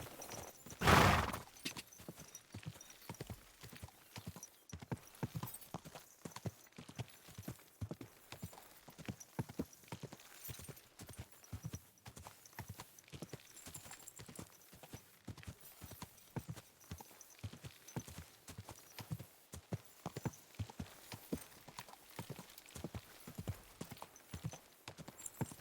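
Rhythmic horse hooves clip-clop steadily on a path in the game Kingdom Come: Deliverance II, a brisk even gait running the whole stretch, with a short whinny near the start.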